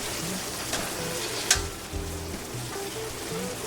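Basil and oregano being stirred into a sizzling stuffed bell pepper mixture in a pan, a steady close frying crackle with a few scraping knocks from the utensil and one sharp clink, no talking.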